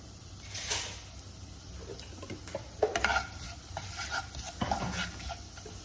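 Ground spices such as turmeric, red chili and coriander powder are stirred and roasted in a pan over a low flame, giving a faint, soft sizzle broken by quiet scraping and knocks of the stirring spoon.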